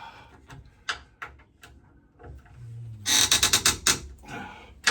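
A wrench tightens a frameless shower door hinge: scattered light clicks and taps, then a close burst of rapid ratcheting clicks lasting about a second, followed by a few more knocks.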